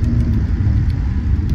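A light attack vehicle engine in the strategy game Homeworld: Deserts of Kharak: a loud, close, steady low rumbling drone with a slight wavering throb, heard alone for a short stretch.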